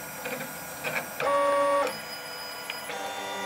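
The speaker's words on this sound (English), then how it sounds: "So that's printing ABS at the moment with the rear extruder that you can see turning." A dual-extruder 3D printer switches between nozzles while printing ABS and NinjaFlex filament. Quiet whirring and tonal stepper-motor whines start, stop and change pitch as it moves, close by with no voices.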